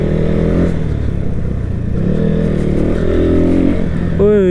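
A motorcycle engine revs loudly near at hand on a road around Pokhara's Phewa Lake, a steady rumbling drone holding through the whole stretch with a rising whine at the very end.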